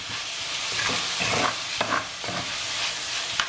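Shrimp and drumstick pieces sauté in a pan for a kulambu, with a loud, even sizzle under repeated spoon-stirring scrapes and a couple of brief clinks against the pan, with no voices.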